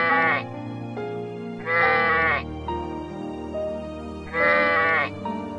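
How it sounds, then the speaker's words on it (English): Sheep bleat three times in a children's animal-learning game, each a loud, wavering bleat separated by pauses, over a soft musical background. "Sheep."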